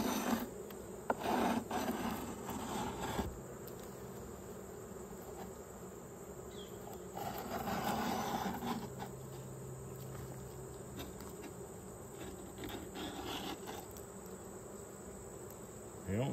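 Honeybees buzz steadily around an open hive during a queen check, a continuous faint drone with small rising swells and no talk.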